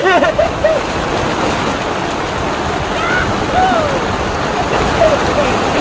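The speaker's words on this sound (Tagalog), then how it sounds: "Ang lakas naman ng ulan!" Heavy rain pours in a dense, steady roar, with brief voice fragments faintly audible over it.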